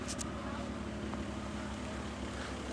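A Toyota Cressida's blower motor runs inside the car at operating temperature, producing a steady, loud, broadband whoosh with a constant low hum throughout.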